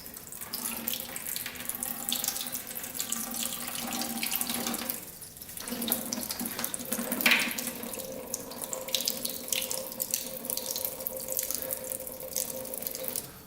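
Water steadily drains and trickles from the soaked padding of an old 40-year-old 650cc motorcycle seat, a continuous close splashing flow with a brief lull partway through.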